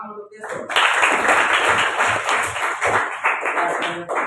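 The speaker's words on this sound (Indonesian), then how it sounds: "beri tepuk tangan untuk Yesus" An audience claps in dense, continuous applause that starts abruptly after a short pause and carries on steadily to the end.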